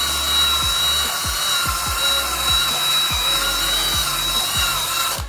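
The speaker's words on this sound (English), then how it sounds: "get your metal brush and use that to kind of scrape off anything that's left" A metal wire brush scrapes bare concrete on a garage floor being prepped for epoxy, a steady close abrasive rasp with a motor-like whine underneath and soft repeated strokes, no voices.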